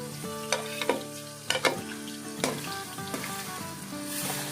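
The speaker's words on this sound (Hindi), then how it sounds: "अदरक और लहसुन को हमने फ्राई कर लिया" Steady sizzling of ginger and garlic frying in a pan, with several sharp clinks and scrapes of a utensil stirring against the metal.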